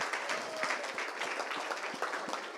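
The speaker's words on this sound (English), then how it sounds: "round of applause for Saumil and his team." Audience applause at an ethical hacking seminar during a tech expo, a steady wash of many hands clapping at moderate distance, continuous and even for a couple of seconds.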